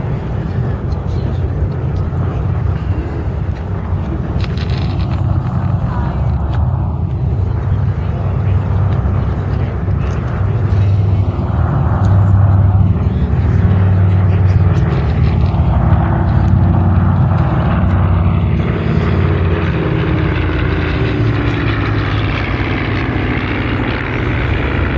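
Vintage WWII airplane engines running at takeoff, a steady loud droning roar throughout with a gradual pitch sweep as the aircraft passes, while a voice speaks over it.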